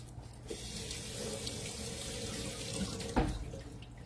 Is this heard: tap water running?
yes